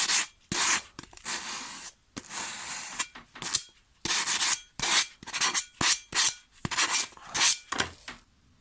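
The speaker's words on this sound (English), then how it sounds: "take a little small file, just clean up that edge" Repeated rasping strokes of a small metal file drawn across the edge of a new lawn mower blade, a steady back-and-forth rhythm of short scrapes with brief pauses between them.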